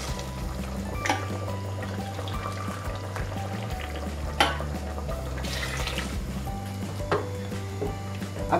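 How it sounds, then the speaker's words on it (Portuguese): Hot boiling water poured steadily into a pressure cooker pot of braising beef: a continuous, fairly close splashing pour lasting several seconds, with no voices. "Agora eu vou acrescentar aqui 2 xícaras de água"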